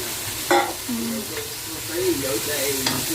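Beef balls and vegetables sizzle and crackle in a pan as they are sautéed for pansit bihon, with a few scraping stirs and utensil clinks, close up and steady throughout.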